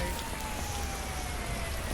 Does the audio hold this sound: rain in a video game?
yes